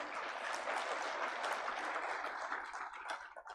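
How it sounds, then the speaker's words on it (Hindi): An audience in an auditorium applauds steadily, a dense, continuous clatter of many hands clapping that carries on for several seconds before thinning out at the end. "ताली बजाओ।"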